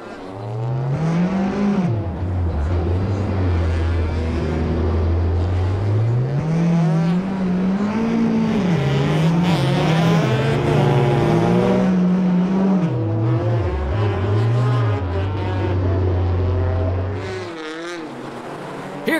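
Race cars in a G Series ice race roar through the final skids with engines revving hard and pitch rising and falling continuously, loud and close, before cutting off near the end.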